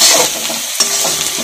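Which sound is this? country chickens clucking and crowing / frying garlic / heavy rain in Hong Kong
frying garlic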